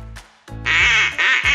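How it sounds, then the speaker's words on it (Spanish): A squeaky toy duck, a baby-doll plaything, gives several loud, nasal quacks in quick succession, close by and alone with no talk. "Te voy a dar un patito."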